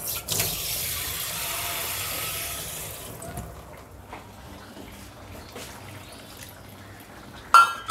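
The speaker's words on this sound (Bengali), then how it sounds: "একটু জলটা অ্যাড করতে হবে" Water poured into a pot of half-cooked rice, a soft hissing rush that fades after about three seconds, followed by quiet dripping and a sharp clink near the end, faint and without talking.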